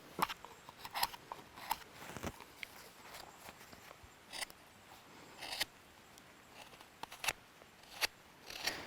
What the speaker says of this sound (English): I'll go on to the craft knife now.